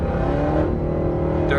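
A car engine in a Chevrolet 6.0 LQ9 truck revs at about 3,000 RPM, a loud, steady, deep drone with no break during the brief moment.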